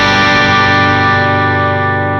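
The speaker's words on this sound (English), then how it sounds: "so you can see with the Duncan distortion" An electric guitar chord through a Duncan distortion pedal rings out loud and sustained, thick with fuzzy overdrive, slowly decaying with no other sounds.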